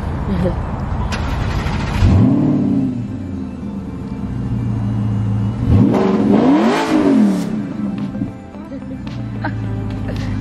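An Aston Martin engine rumbles close by and is revved twice, each rising and falling in a smooth swell over a steady idle, while people talk and cheer nearby.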